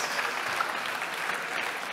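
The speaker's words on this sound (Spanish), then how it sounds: "Y ahora también continuamos con otro aplauso." Audience at a technology event presentation applauding to welcome a speaker, a dense steady wash of clapping from many hands, even in level throughout.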